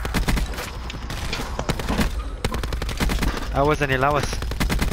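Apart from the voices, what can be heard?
gunfire in a video game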